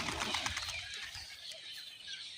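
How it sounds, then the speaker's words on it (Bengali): A flock of pigeons, young and adult birds, comes down to land, a dense, rushing flutter of many wings close by that fades a little over about two seconds, with no talk. "অনেক কবুতর নামছে।"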